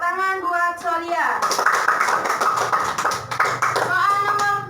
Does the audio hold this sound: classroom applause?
yes